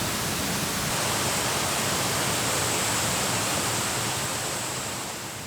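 A large waterfall near an autumn campsite, heard from a distance as a steady, dense broadband roar that holds constant throughout and eases slightly at the end, with no voices.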